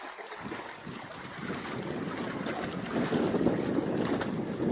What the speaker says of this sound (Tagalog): Lakas ng hangin dito sa amin.